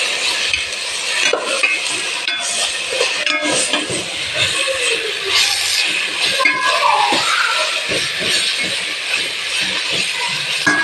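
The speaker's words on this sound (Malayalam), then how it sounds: "നന്നായിട്ട് ഇളക്കി പിടിക്കുക." Ginger-garlic paste stirred in a hot cooking pan, loud close scraping and clattering of a spoon over a continuous sizzle, with uneven bursts of stirring throughout.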